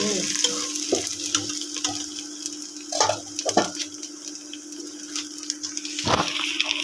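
Tadka for kadhi pakora sizzles steadily in a pan, a constant crackling fry with a few stirring clinks and scrapes, close and loud, no talking.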